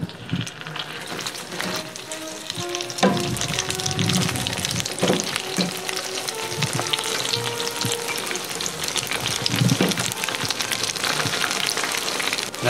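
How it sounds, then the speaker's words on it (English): A fry basket of food pieces lowered all at once into hot oil gives a loud, steady, crackling sizzle that runs unbroken and close, with no voices. "Now we're just going to fry this for about 30 seconds, just till we get a nice golden brown."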